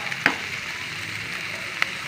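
Corned beef sautéing in butter gives a steady, soft sizzle and frying hiss throughout, with a couple of brief clinks of stirring.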